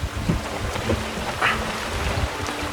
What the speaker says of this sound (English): The wind's a good 15 knots now, maybe more.